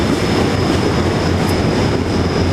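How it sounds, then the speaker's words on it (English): A train rolls through a platform at Suwon Station in Korea, a steady rumbling rush of wheels and carriages with a faint high whine, continuous and fairly close, with no one talking. "there's the train."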